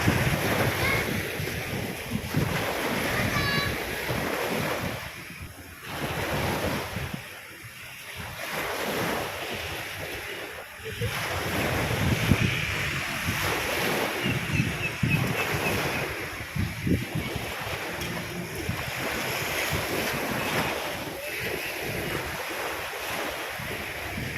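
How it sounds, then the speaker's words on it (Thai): Gentle sea waves wash ashore at Jomtien Beach in Pattaya. The surf rumbles steadily and continuously, mixed with gusting wind noise on the microphone, and no one speaks. "คลื่นไม่แรงนะคะ"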